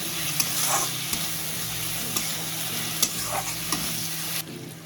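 Lata fish fries in a pan with a steady close sizzle, broken by scraping stirs and soft clinks as a utensil moves it around. Near the end the sizzle drops off sharply.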